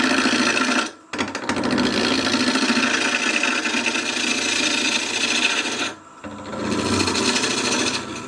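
A hand tool rasps across the grain of plastic-impregnated wood in long, steady scraping strokes, loud and close, with brief pauses between passes.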